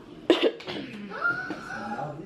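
A single sharp cough bursts out close by, followed by a softer second hack, then a household voice and faint chatter carry on.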